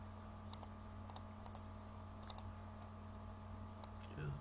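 Faint, crisp mouse clicks in a quiet room, single and double, in a loose irregular rhythm over a low steady hum.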